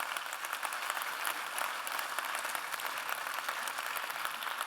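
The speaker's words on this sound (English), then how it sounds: "Can we give all of them a big round of applause for being here?" Conference audience at a startup event giving sustained applause, a steady crackle of many hands clapping at moderate distance with no talking.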